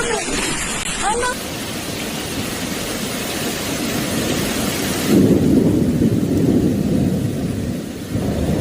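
A violent summer thunderstorm over Palermo brings heavy, steady rain roaring across the city, with deep rumbling thunder swelling louder midway; brief voices are heard near the start.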